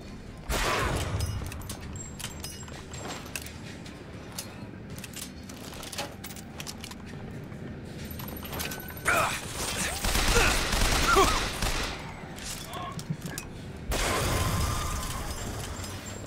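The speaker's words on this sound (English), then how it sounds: "Volley gun. Oh, that must be the one he was shooting." A volley gun firing in the video game Bioshock Infinite: bursts of sharp crackling shots with a metallic rattle, a dense louder barrage in the middle, and a renewed burst near the end, with faint speech.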